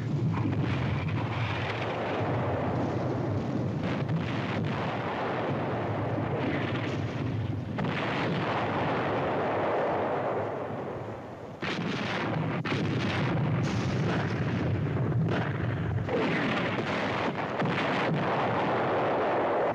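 Artillery gun fire in a 1962 World War II combat TV drama, with loud, sustained booming blasts and rumbling roars that continue through most of the scene and dip briefly midway.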